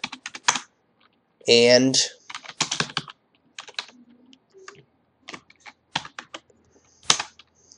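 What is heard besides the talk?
typing a command on a computer keyboard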